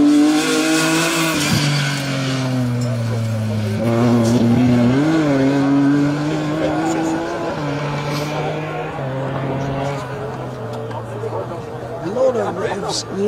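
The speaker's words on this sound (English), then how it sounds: "that BMW 1 Series sounded very, very crisp and clean" A BMW 1 Series rally car runs a special stage, its engine drone rising and falling through gear changes with tire squeal, passing close with crowd chatter underneath throughout.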